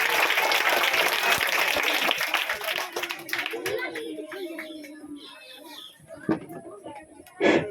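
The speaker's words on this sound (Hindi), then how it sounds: "तालियों के साथ उनका स्वागत करें।" A crowd claps loudly and continuously at a Teacher's Day celebration in a study centre, then the applause thins out and fades, leaving scattered claps, a few voices and bird coos.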